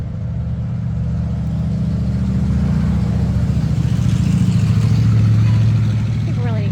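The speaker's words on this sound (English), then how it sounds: "Here comes the Harley. He's the quietest of the 4." A Harley motorcycle passes by with a low, throbbing engine rumble that swells and then eases off, while people talk over it.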